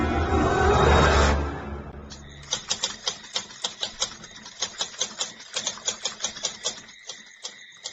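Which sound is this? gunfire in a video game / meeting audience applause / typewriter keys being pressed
typewriter keys being pressed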